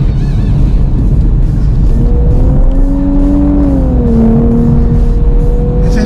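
A Nissan Z sports car on a race track with driver assists switched off pulls hard under acceleration; its engine note climbs and sustains, loud and close, mixed with steady road and wind roar throughout.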